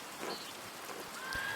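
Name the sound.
rain falling in the video game Pentiment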